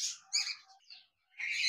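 A male grey cockatiel sitting in a cage calls with a few short, clear chirping whistles up close, separated by brief silent gaps.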